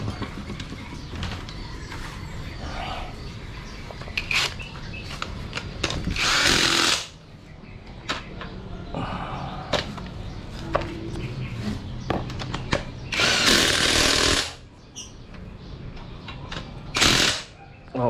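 Impact wrench fitted with a 12 mm socket working on a car dashboard during restoration, loud rattling bursts of a few seconds each standing out over ongoing workshop noise and clatter.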